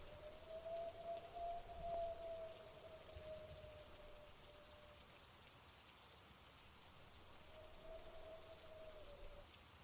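Steady rain falls and patters on surfaces in a continuous soft hiss, even and unbroken throughout, with a faint tonal hum drifting in and out in the background.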